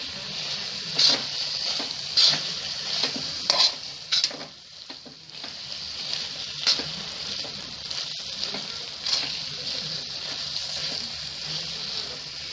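Grated carrots stirred in hot desi ghee for gajar ka halwa, a continuous bright sizzle broken by repeated scraping stirs and occasional wet splashes, close and fairly loud.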